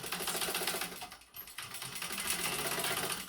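A sewing machine stitching a fabric clutch, a rapid mechanical chatter of the needle running steadily close up, briefly pausing around the middle before resuming at a constant pace.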